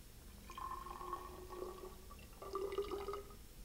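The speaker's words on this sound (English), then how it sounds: "We will carefully remove the rubber stopper from the flask and pour the water into a graduated cylinder." Water poured from a flask into a graduated cylinder in a lab, heard as a faint, close liquid trickle in two short bursts with a slight glassy ring and no talking.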